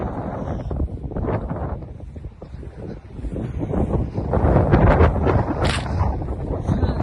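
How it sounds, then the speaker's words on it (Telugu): Strong wind buffets a microphone in an open park, a steady rumbling roar that swells and eases, loud and continuous with no other clear sounds. "చాలా గాలి వస్తుంది ఈరోజు."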